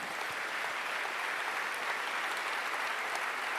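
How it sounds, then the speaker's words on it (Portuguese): Audience applauding inside a church during a sermon, a steady dense wash of many hands clapping that holds at an even level throughout, with no voices over it. "pode aplaudir que é verdade"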